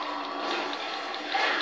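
Water splashes and pours steadily over a player character in a sandstorm video game mission, a continuous broadband wash that stays fairly loud from start to finish.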